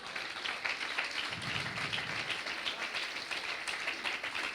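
Church congregation applauding, a soft, steady patter of many hands clapping at a moderate distance, with some crowd murmur underneath.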